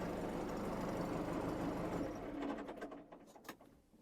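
An MTZ 892 tractor engine is switched off. Its steady, close diesel rumble runs for a couple of seconds, then cuts out and winds down through a few fading clatters into near quiet.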